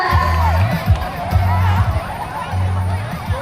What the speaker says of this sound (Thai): ส่งเสียงเชียร์ได้เลยนะคะ